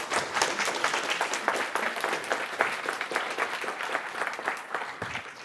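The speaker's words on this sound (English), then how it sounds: "Anyway, applause." Applause from a programming conference audience after a talk, a dense, steady patter of many hands clapping at moderate volume, lasting several seconds with no one speaking over it.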